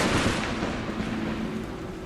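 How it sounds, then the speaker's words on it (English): Thunder booming through a storm in a tale of classical demon folklore from Onimusha: Warlords, a loud, continuous low rumble that swells at the start and rolls on steadily without any voices. "just as the thunder booms outside"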